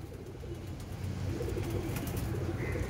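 Soft, low coos of Anardana pigeons murmur over a steady background hum, close by and continuous, with no talking.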